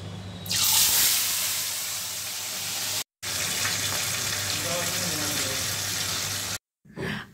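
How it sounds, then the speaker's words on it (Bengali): Pomfret fish fry in a pan in a home kitchen, a steady loud sizzle and spatter close by, broken by two short cuts. "আমার মাছগুলো ভাজা হয়ে গেছে"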